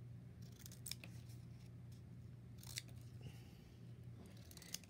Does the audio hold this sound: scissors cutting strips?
yes